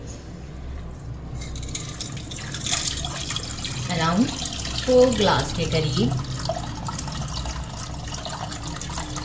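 Cold water is poured into a pot while making Kashmiri pink chai, a steady splashing, gurgling flow running for several seconds as someone talks over it.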